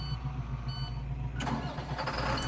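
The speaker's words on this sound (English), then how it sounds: "it's the starting sound of a school bus" A school bus engine starting up in Farming Simulator 22: a low idle rumble gives way to a cranking, clattering catch and a rougher running engine, heard close and alone.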